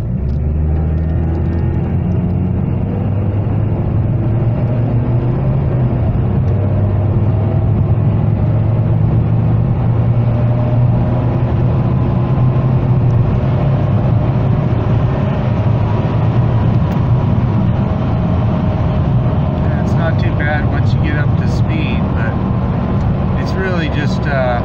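A 2003 Nissan Altima with a 2.5L engine accelerates, its exhaust giving a loud, unbroken low drone and rumble that holds steady throughout with road noise.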